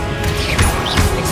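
A Confringo blasting spell strikes in Hogwarts Legacy, giving a loud, punchy explosive crash that flares twice in quick succession over a continuous rumbling background of combat noise.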